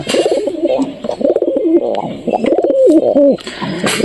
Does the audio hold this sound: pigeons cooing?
yes